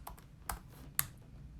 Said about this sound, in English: I'm typing in for you guys.